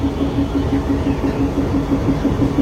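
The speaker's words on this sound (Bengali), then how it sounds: "65-7 লোকোমোটিভ।" Class 65-7 diesel locomotive on a rail line near the Padma Bridge, giving a steady low engine rumble with a pulsing mid-range drone throughout, moderately loud and close, with no speech over it.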